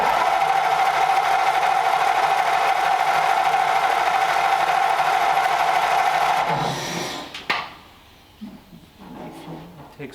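A 1932 Ford Roadster engine cranks over steadily on the starter, a continuous mechanical drone that runs for several seconds before cutting out, followed by a few faint clunks.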